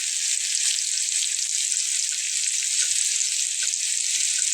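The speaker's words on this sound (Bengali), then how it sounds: "আমি বেগুনটা একবার উল্টে দিয়ে আলুগুলোকে পাশে পাশে দিয়ে নিয়েছি, যাতে করে অল্প সময়ের ভেতরে ওটাও ভাজা হয়ে যাবে" Eggplant and potato pieces fry side by side in oil, giving a loud, steady, close sizzling hiss that holds evenly throughout with no talk.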